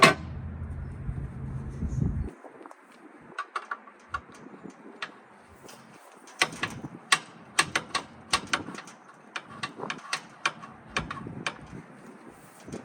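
A wrench working a railroad crossing gate mechanism to lever it down, giving a run of sharp metallic clanks and ticks spaced irregularly, close and fairly crisp, after a brief low hum at the start.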